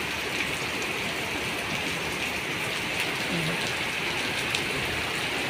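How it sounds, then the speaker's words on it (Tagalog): Steady heavy rain falls in Jeddah, Saudi Arabia, an unbroken close roar of drops splashing on hard surfaces and running water. "Grabe ang ulan, malakas."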